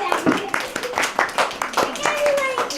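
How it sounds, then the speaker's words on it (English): Children at a Halloween storytelling session clap in a quick, uneven rhythm of sharp hand claps, close and fairly loud, mixed with kids talking over it. "Give yourselves a round of applause."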